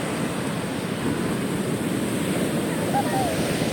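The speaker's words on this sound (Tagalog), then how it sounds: "Ang laki ng alon dito." Big ocean surf rolls in at Botolan Beach in Zambales on the West Philippine Sea as a steady, close roar, with wind buffeting the microphone.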